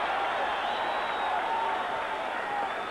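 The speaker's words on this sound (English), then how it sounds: "John Thompson stands up and gets a roar from the crowd" A steady, dense crowd roar fills a college basketball arena at a December 1985 UTEP versus Georgetown game as coach John Thompson stands, holding loud and even throughout.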